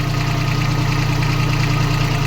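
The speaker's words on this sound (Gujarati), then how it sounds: "ગમે એવા ટ્રેક્ટરનો રેસ વધારી દો મિત્રો તમે જુઓ થઈ ગયું ધીમું ફાસ્ટ" A repaired tractor's diesel engine idles loudly and steadily nearby, a deep even chugging throb with a slight knocking rhythm and no voices.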